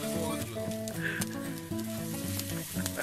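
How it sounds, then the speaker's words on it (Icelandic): Leg of lamb sizzling on an outdoor grill in the Icelandic countryside, a steady close hiss and crackle, with a bright tonal hum running underneath throughout. "Svona grillum við læri í sveitinni"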